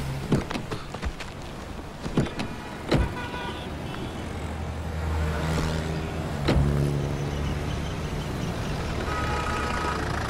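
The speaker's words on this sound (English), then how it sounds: "Start the vehicle." A car starting up and pulling away, a few sharp clicks and thumps followed by a steady engine hum that swells as it drives off, with no voices.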